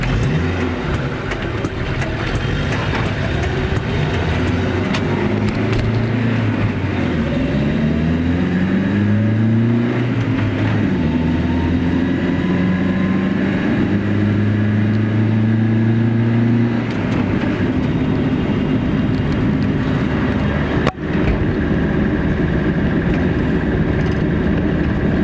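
Car engine droning from inside the cabin as it drives on a test run after a brake problem, revving up and down through gear changes, loud and steady throughout.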